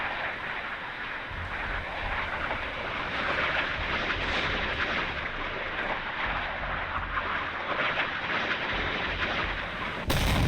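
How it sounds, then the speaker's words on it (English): Missile hits on the Soviet carrier Kiev in the naval combat game Sea Power, heard as a dense, continuous roar of heavy rumbling explosions and detonations that stays loud and unbroken throughout. "There we have our first hit against the Kiev."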